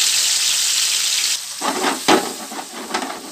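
Chicken tikka pieces hit hot oil in a pan and sizzle steadily, with bursts of scraping and stirring breaking through the broad frying hiss.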